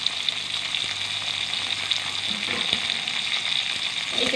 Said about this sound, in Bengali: তেলটা এখানে গরম হয়ে গেছে, আমি দিয়ে দিচ্ছি এর মধ্যে ক্যাপসিকামের টুকরো